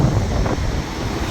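Ocean surf rolls and washes steadily with strong wind buffeting the microphone, a continuous loud roar at the shoreline with no voices heard.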